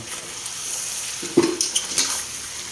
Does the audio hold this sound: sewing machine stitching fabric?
no